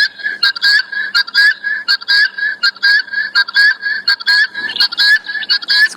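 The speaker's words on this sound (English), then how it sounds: "that is the sound of the African fish eagle" An African fish eagle call plays from a handheld device outdoors in the bush: a loud, repeated series of ringing whistled yelps in quick rhythmic bursts, close and clear with no talking.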